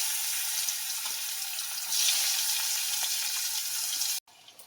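Sliced onions hit hot oil with panch phoron in a home kitchen, giving a bright, continuous sizzle that swells slightly midway, then cuts off abruptly near the end, leaving a quieter sizzle.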